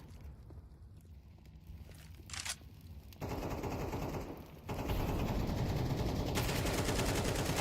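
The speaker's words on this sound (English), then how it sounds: "Cypher up close with the AK, a double entry." AK rifle fire in a competitive Counter-Strike esports match comes in fast rattling bursts that grow louder and more sustained toward the end, over a quieter stretch of in-game ambience and footsteps.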